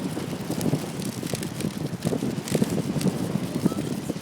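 Gusty wind buffets the microphone at a beach, a rough low rumbling roar that rises and falls throughout.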